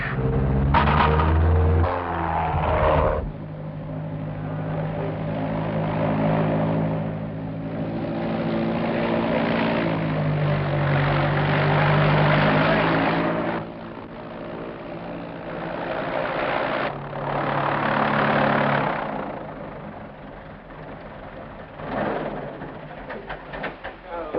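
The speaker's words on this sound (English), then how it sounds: "Hey, Hugo, you sure can fly that plane." Small propeller plane flying low and coming in to land, a steady close engine drone with a throbbing propeller tone throughout, a voice heard briefly over it near the start.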